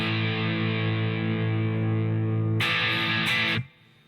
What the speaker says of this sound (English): I put now a distortion pedal on, this is a TC Electronics Mojo.